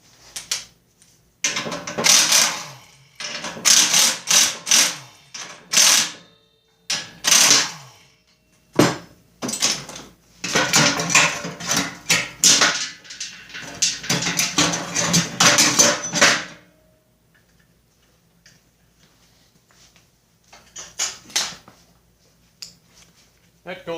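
A socket wrench works bolts off a Snapper rear-engine rider mower deck, giving rapid metallic ratcheting bursts and clinks in close, separated runs before falling quiet.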